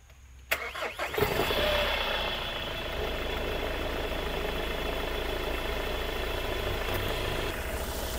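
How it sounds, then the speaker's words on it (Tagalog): A van engine cranks briefly, catches, and settles into a steady, even idle that continues close by to the end. "So ayan na po, yung tunog ng makina."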